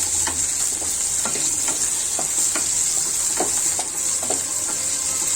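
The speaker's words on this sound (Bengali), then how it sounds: "নেড়ে দিচ্ছি।" Banana blossom curry sizzles loudly in a pan while a spoon scrapes and stirs through it in a steady, uneven rhythm of close, soft knocks over the continuous frying hiss.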